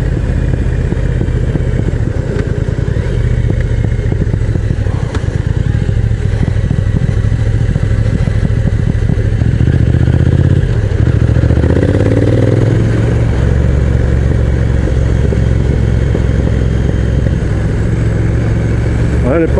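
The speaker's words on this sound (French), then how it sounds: "Elle est pas mal cette moto quand même." A motorcycle engine drones steadily and loudly throughout, swelling in pitch midway as it climbs tight hairpins toward the Plateau des Glières via Entremont, with rattling and wind noise.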